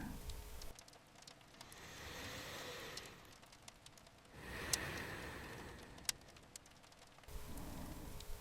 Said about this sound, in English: The rain had already been there for a while when I finally sat down.